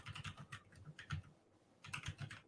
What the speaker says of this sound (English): you don't have to hear me clicking and typing